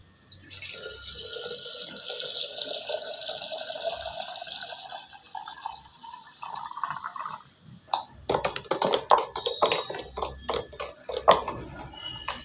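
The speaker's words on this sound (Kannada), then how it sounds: "ಈಗ ಸ್ವಲ್ಪ ನೀರು ಹಾಕ್ಕೊಳ್ತಾ ಇದ್ದೀನಿ ನಾನು." Water is poured over about 2.5 kg of grapes for homemade Coorg-style red wine: a steady trickle and splash first, then irregular drips and clattering splashes toward the end, close and without talk.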